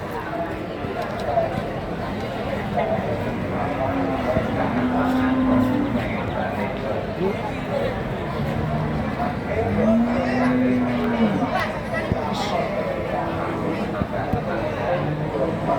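Cattle at the Jatirogo livestock market, with two drawn-out, low moos several seconds apart over a steady din of crowd chatter and market bustle.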